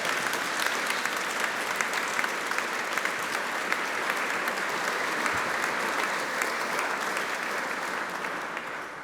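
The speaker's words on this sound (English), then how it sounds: "Please give them another round of applause." An audience at a formal oration keeps up sustained, dense applause, loud and even, with no break until it fades slightly at the very end.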